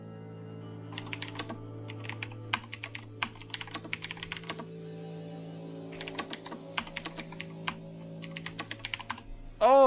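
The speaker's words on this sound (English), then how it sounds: "I'm typing out the next one now." A computer keyboard clatters with rapid, uneven bursts of keystrokes and brief pauses over a steady hum, close and clear.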